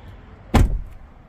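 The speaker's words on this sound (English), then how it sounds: "close the door" A Tesla Cybertruck door swings shut with a single solid thud, close and loud, its low boom decaying quickly into quiet.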